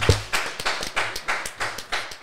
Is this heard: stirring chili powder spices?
no